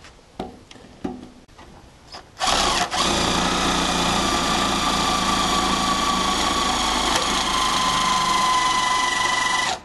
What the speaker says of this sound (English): now I found a drill that actually has power